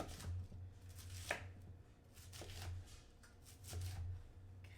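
A knife roughly chops cauliflower on a cutting board, giving a string of soft, uneven thuds in small clusters with pauses between them, quiet and close.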